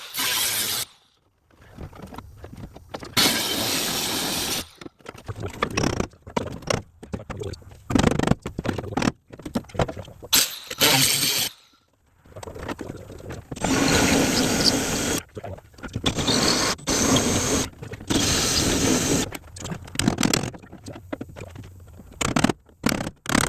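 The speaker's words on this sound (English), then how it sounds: "I took the cutoff wheel grinder here" A cutoff wheel angle grinder cuts through the sheet metal of a 1979 Ford F150 truck cab in repeated bursts, harsh scraping screeches starting and stopping with short quiet gaps between passes.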